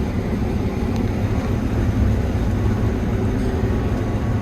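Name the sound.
combine harvester running with a broken bedding chopper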